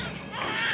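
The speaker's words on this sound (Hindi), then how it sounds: "बालक रोने की आवाज आओ है।" A child cries in a Haryanvi family drama film, a brief wavering wail that is moderately loud and carries over a soft background.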